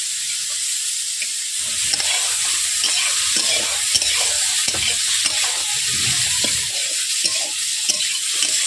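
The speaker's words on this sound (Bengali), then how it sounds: "আমি ঘাঁটিয়ে ঘাঁটিয়ে ডিমেগুলোকে আমি ভেজে নিচ্ছি" Eggs fried in a kadai for a Bengali rui fish curry, sizzling steadily in hot oil while a spatula stirs and scrapes them in an irregular rhythm, close and fairly loud with no talk.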